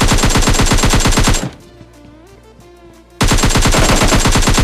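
Automatic gunfire in a PUBG fight: rapid, loud, close bursts of shots, broken by a quiet gap of about two seconds with faint background game sound before the firing resumes just as hard.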